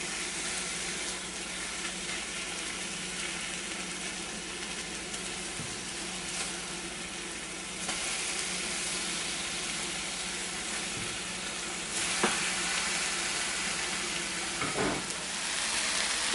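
Two eggs frying in a pan, a steady close sizzle that carries on throughout with faint clatter and shifts as they are flipped, no talking.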